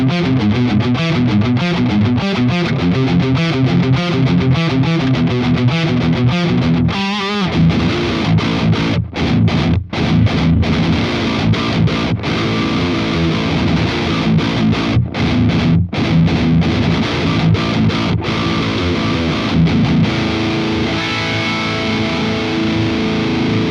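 Electric guitar through a 5150 Iconic amp with heavy distortion and high gain plays steady chugging riffs with sustained chords, loud and continuous throughout, with a few short stops between phrases.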